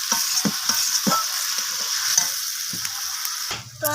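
Water is added to a simmering rohu fish kalia gravy in the pan, producing a bright hissing sizzle with bubbling pops and stirring scrapes that settles toward the end.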